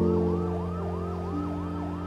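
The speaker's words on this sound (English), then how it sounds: "why are there so many police siren sound effects in this movie?" A police siren wails, sweeping up and down in quick repeated cycles over a steady droning tone, loud and continuous with no voices.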